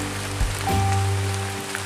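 Steady rain falls outdoors near a royal tomb site in the Kei Islands, a continuous close hiss that never lets up, with a low constant hum running underneath.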